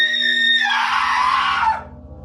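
A woman lets out a loud, piercing scream in a horror story. It rises sharply, holds for over a second, then breaks off into a low, dark background drone.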